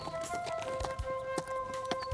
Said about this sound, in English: He borrows a horse and rides up to find Ollie.